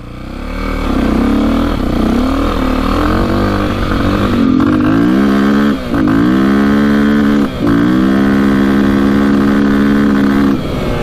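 A KTM 450 dirt bike engine runs close and loud through a ride, its revs rising and falling steadily, with two brief dips where the throttle backs off before pulling hard again near the limiter.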